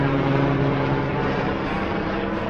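Steady drone of a propeller plane flying over rural Dutch countryside near a bridge, a constant engine hum that holds even and fairly loud without talk.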